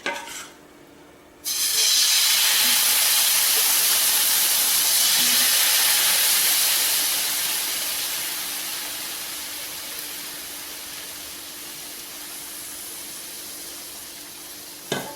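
Wheat rava dosa batter is poured onto a hot pan and sizzles loudly, sending up a broad bright hiss. The sizzle begins sharply after a quiet start, then slowly fades to a softer steady frying hiss.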